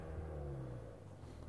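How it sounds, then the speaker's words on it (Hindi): Vehicle approaching on a snowy mountain road near Panja Gali, a low steady engine rumble that stays fairly even and moderately close for the short stretch. "गाड़ी आ रही है, उसको भी दिखाते हैं आपको।"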